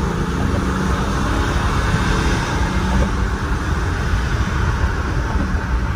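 A BMW X6 40d diesel accelerates under kick-down, heard from inside as a loud, steady engine and road roar that holds at an even level, with no talk.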